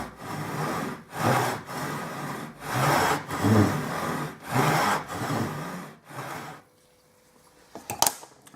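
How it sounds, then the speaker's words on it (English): A hand saw cuts spalted wood for guitar picks in steady back-and-forth strokes, about five rasping passes, close and loud, then stops with a brief clatter. "rest the blade across it, and gently start sawing."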